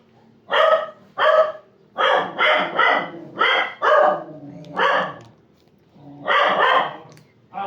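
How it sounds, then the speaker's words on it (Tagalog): Several dogs bark repeatedly nearby in loud, uneven bursts, some overlapping, with brief pauses between volleys. "nag-iingay ang aking mga aso"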